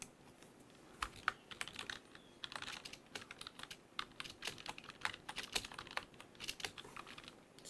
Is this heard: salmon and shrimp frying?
no